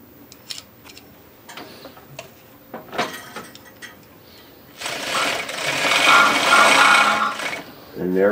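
A carpet binding machine sews 7/8 inch poly binding tape, starting with a few sharp clicks and clacks before settling into a loud, fast mechanical stitching rattle near the end.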